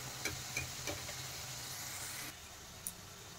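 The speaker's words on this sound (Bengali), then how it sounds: "দেখেন ফ্রেঞ্চ ফ্রাইগুলো ভাজা হয়ে গেছে" Potato French fries fry in hot oil with a soft, continuous sizzle and hiss, broken by a few small pops and clicks.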